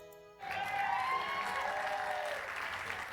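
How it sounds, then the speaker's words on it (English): Applause from a video game crowd bursts in after a quiet start, as a song's long final note rings over it, then dense steady clapping fills the rest of the clip. "the crowd joins in wholeheartedly until the song reaches its long final note and the song of clapping"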